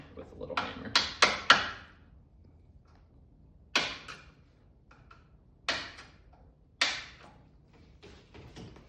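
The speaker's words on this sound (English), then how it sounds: "I am going to have to tap it with a little hammer." Sharp metallic taps of a small hammer on a Minn Kota Ultrex trolling motor shaft assembly, a quick cluster of four followed by three more spaced a second or two apart, close and fairly loud against a quiet background.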